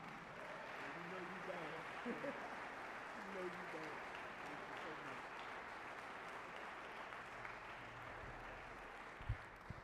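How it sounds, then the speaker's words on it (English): Steady audience applause welcoming a keynote speaker at a religious gathering, a dense wash of clapping lasting throughout with a faint voice or two murmuring beneath it. "let's receive with a warm round of applause, Brother Minister Fontaine Muhammad"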